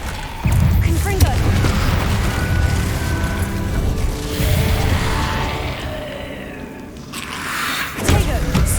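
Fire-based Confringo explosion spells in Hogwarts Legacy gameplay, heavy booming blasts with crackling bursts repeating through the stretch, loud and dense, with a brief lull near the end before another hit.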